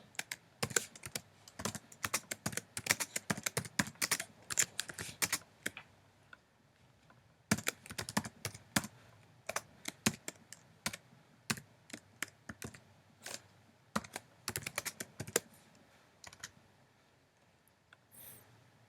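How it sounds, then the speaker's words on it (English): Rapid clattering keystrokes on a computer keyboard come in bursts, with brief pauses around five and fifteen seconds, then a final stretch of slower clicks. "I'm going to type some text."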